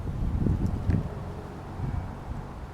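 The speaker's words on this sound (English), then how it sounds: "Ooh, it's windy" Low, blustery wind rumbles and buffets the microphone in uneven gusts, a steady outdoor roar with no voices, in a cold Japanese maple garden in fall.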